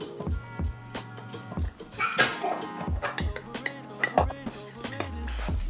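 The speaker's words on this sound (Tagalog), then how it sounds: "Tapos haluin nyo lang." A spoon stirs sugar into coconut-milk champorado in a pot, with repeated clinks and scrapes against the metal in an uneven rhythm, close and fairly soft, over a faint tonal background.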